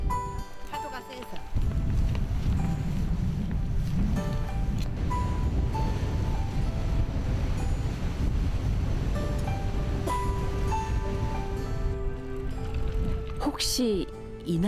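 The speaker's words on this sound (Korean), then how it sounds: "태풍이 한바탕 섬을 휘갈키고 간 후에도 세찬 파도와 바람이 섬을 맴돕니다" Strong waves and gusting wind batter a small island off Jeju after a typhoon, a loud, unbroken roar of surf and wind buffeting with a voice over it.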